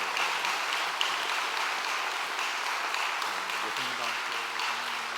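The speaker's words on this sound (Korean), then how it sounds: "우리 큰 박수로 격려해 주십시오." Congregation applauding during a Sunday morning university church service after a baptism certificate is read, a steady broadband patter of clapping filling the room, with a faint voice or tone entering toward the end.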